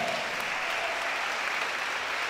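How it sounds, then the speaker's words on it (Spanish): A church congregation at an anniversary service applauds with steady, dense clapping that fills the space continuously, with no voices over it. "dele ese aplauso a Cristo"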